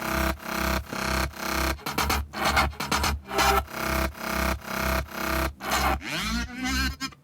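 A loud, pulsing synthesized bass line repeats rhythmic notes, layered with other electronic music parts.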